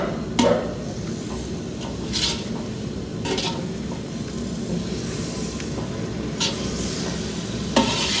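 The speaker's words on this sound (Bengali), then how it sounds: "ম্যারিনেট করা মাংসগুলো এর মধ্যে ঢেলে দিচ্ছি মশলার সঙ্গে মাংসটা খুব ভালোভাবে কষিয়ে নেব" Marinated mutton stir-fries with spices for a Bengali mutton curry, a dense steady sizzle punctuated by a few loud scraping strokes and knocks of the spatula in the pot.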